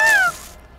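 A cartoon kitten stuck up a tree lets out a single short, high meow that slides downward, close and clear, followed by near silence.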